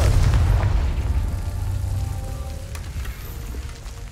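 Confringo explosive spell in the Hogwarts Legacy video game, a single loud blast at the start that rumbles and crackles away over a few seconds.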